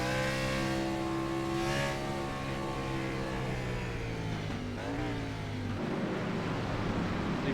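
Race car engines in a racing game roar loud and close on the road course at Circuito de Navarra, one engine tone sustained and then sliding as the cars brake and accelerate through a bend.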